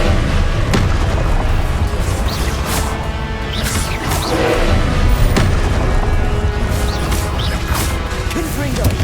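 Repeated Confringo fire spell blasts and impacts in Hogwarts Legacy, a series of loud smashing booms at irregular intervals over dense battle noise.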